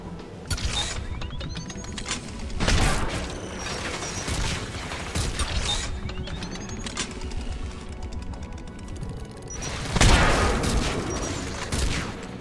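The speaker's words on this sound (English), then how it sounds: "AA guns ahead of us." Anti-aircraft gunfire in a video game, loud bursts of rapid firing that break out repeatedly over mechanical clatter and game noise, with heavy blasts near the start and the end.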